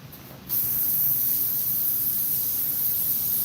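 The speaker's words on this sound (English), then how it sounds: "Forgot to put bug spray on again." An aerosol can of bug spray hisses loud and close after a brief quiet start, one continuous steady spray lasting about three seconds, outdoors.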